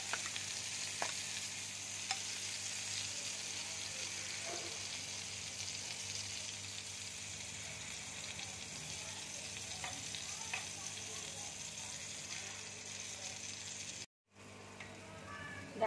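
Bottle gourd and egg frying together in a pan give a steady sizzle with occasional stirring scrapes, moderately close, ending with a brief break near the end.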